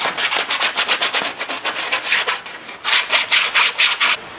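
Sixty-grit sandpaper rubbed hard over an ABS plastic black tank during a truck camper repair, a rapid run of scratchy back-and-forth strokes, loud and close, with a brief pause before the strokes resume.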